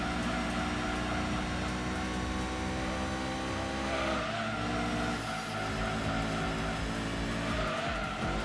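Race car in Gran Turismo 2 sliding through a corner, its engine drone steady and loud throughout with tire skid noise layered over it, no talking.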